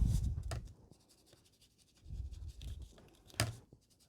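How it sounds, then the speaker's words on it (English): Light watercolour wash brushed over stencilled card, soft rubbing strokes in a few short bursts, close and quiet with pauses between them. "just take the light colour and just wash it over"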